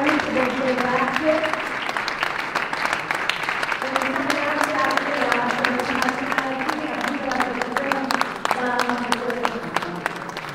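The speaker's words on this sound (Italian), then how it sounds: "l'applauso lo possiamo fare, è un modo veramente di dire grazie" A small audience claps steadily for about ten seconds in Milan's Piazza Duomo, hands patting in a dense, even patter, with murmured voices underneath.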